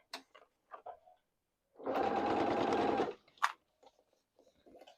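A sewing machine runs a basting stitch through faux leather for pants, one steady burst of about a second and a half, close and fairly loud, with faint handling clicks before and after.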